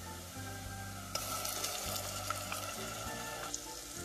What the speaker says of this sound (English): So I'm going to add the ginger garlic paste and I'm going to still cook it on high flame.